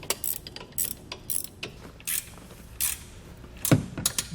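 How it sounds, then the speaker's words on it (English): A wrench works a U-bolt tight on a Brophy stabilizer clamp fitted to a 2-inch trailer hitch. It gives short, separate metallic ratcheting clicks and clanks in irregular bursts, close by, over a quiet background. "I'm just going to be using a wrench. It's going to take a little bit of time, but it's definitely going to be worth it when we get this tightened down."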